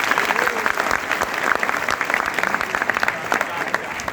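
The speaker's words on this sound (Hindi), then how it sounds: "तो ताली हो जाएगा उसकी" Audience applause at an engineering students' session with the founder of Last Moment Tuitions, brisk dense clapping from a packed hall, individual claps popping out close by over a steady roar.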